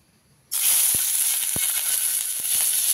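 Cut chillies for Banarasi dahi mirchi drop into hot oil, setting off a sudden loud, steady sizzle and hiss that continues to the end, with a few soft pops underneath.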